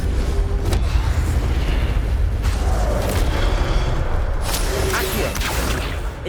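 Incendio fire spell blasts from Hogwarts Legacy, a continuous roaring, booming rush of flame and impact noise with a few sharper bursts, loud and sustained throughout.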